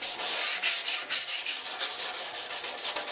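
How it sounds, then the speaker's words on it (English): Rapid back-and-forth scuffing of the painted surface on a snowblower chute, a steady hissy rubbing rhythm of about five strokes per second, close and alone. "I'll do the other side of the chute. The trick is just to scuff up the paint so that the new paint sticks to it much better."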